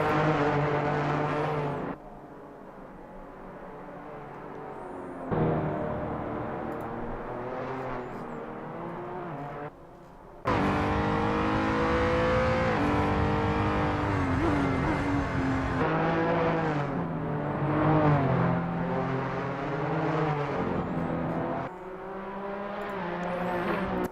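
A Renault race car engine in a racing video game, droning steadily with rising and falling harmonic pitch as it shifts and revs, moderately loud and alone without talk.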